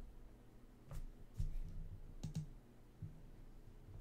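Faint, sparse keystrokes on a computer keyboard, a few scattered clicks in a quiet room with a low background hum.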